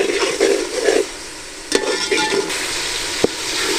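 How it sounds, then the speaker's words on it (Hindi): Tomatoes with garlic and ginger sauté in a pan, giving a steady sizzle broken by scraping stirs and a few sharp clicks of a utensil against the pan, close and without talk. "अच्छी सी हम इसकी बुनाई करेंगे ताकि टमाटर हमारे गल जाए इसी तरह और घुल भी जाए।"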